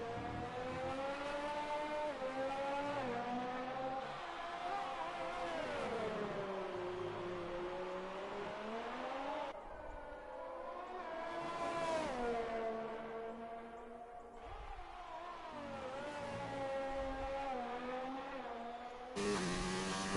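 Formula 1 race car engine in a video game, Brazil round, on a fast lap, a loud continuous high-pitched whine whose pitch rises and falls through upshifts and braking with no voices.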